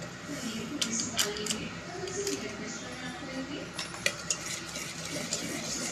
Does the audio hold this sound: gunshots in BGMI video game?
no